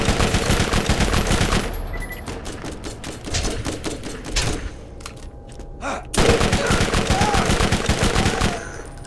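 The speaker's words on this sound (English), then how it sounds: "Scorpio turret" A Scorpio turret in a shooter video game hammers out rapid, loud automatic fire in long bursts, pausing briefly midway with a few separate shots before resuming its dense, rattling stream.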